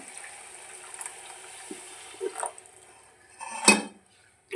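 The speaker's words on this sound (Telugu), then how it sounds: "ఇంకా కొన్ని వాటర్ పోసుకుందాం" Water poured into a pan of bitter gourd curry cooked with sesame powder, a brief splashing burst with a pan clatter, preceded by soft kitchen clinks and scraping.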